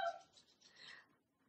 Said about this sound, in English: Sorry, we've got a dog going crazy.